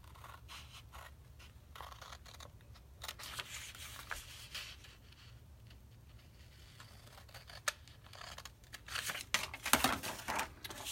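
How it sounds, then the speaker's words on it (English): A cardboard Kind bars box cut along its score line, a soft continuous scraping and rustling of blade through card that grows louder and crisper with sharp crinkles near the end, close and quiet, no voices. "Okay, so I'm gonna cut right along this score line."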